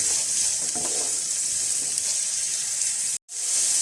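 Finely shredded cabbage and other vegetables being mixed in a hot pan under a loud, steady sizzle, with a sudden brief drop to near silence toward the end.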